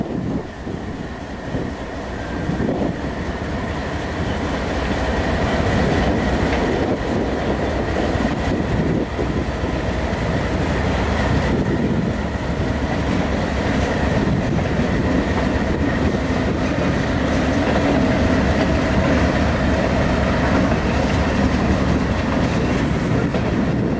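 A Delaware & Hudson sand train rolls past in violent wind, a loud, continuous rumble of railcars with rhythmic wheel clatter and gusty wind noise throughout, no voices.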